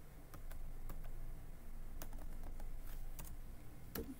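Keys clatter on a computer keyboard at a steady pace while Python is run on Ubuntu, with quick individual taps, short bursts and a low room hum underneath, close and fairly quiet.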